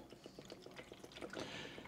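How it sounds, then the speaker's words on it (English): Water is poured into the bottom tray of a small portable evaporative air cooler, a faint, close trickle of splashing drips and pattering that thickens into a steadier pour toward the end. "pour in the bottom tray"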